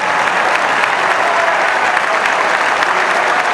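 Loud, dense applause from the audience at an Argentine political event, a steady wash of clapping with no pauses over a few seconds.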